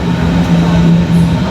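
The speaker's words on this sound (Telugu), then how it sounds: "ట్రైన్ టైం అయిపోతుంది పరిగెట్టేస్తుంది" A train in Germany rumbles past with a steady low drone and a constant mechanical hum, close by and unbroken.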